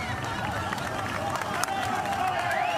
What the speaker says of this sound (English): Huge crowd in the centre, lining the streets.